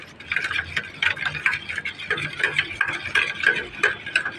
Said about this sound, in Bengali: এখন আমি এটাকে মিশিয়ে দেবো যতক্ষণ চিনিটা না গলে ততক্ষণ আমি এটাকে মিশাতে থাকবো